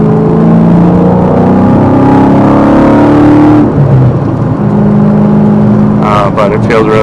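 A Dodge Challenger SRT8 with a manual transmission accelerates hard, its loud engine note climbing in pitch, dipping briefly at a gear shift, then rising again, with a voice speaking over the end.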